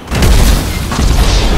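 A loud, deep explosion booms in the GTA 5 Online racing game. A heavy low rumble fills the whole moment, with a rough crackling tail and no voices over it.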